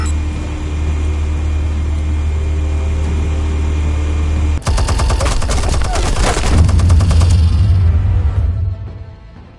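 Gunfire from the Batman Telltale Series video game erupts abruptly midway as a dense, loud burst of rapid shots over a steady low rumble, then fades out near the end.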